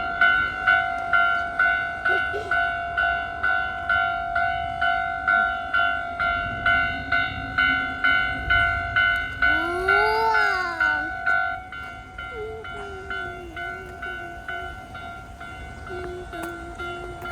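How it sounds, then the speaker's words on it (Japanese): A railway crossing bell dings in a fast steady rhythm while a train approaches, and a rising and falling horn-like tone sounds near the end before the bell stops and quieter tones follow. "電車来たちょうど。"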